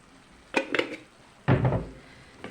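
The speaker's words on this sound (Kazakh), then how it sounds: "Жақсылап араластырып, пиязымен бірге қуырып аламыз" Minced meat and onion fry in a pan while a utensil stirs them, giving two short bursts of scraping and clattering against the pan's surface over a low sizzle, with a quiet pause between.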